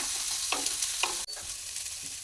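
Egg mixed with vegetables for rice fries in a pan, a close steady sizzle broken by two or three spatula stirring scrapes and a brief clack, no voices.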